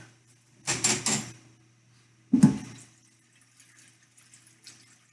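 Water runs from a kitchen tap in two bursts: a louder rush of nearly a second, then a shorter splash a moment later, with faint clinks and drips in the quiet between.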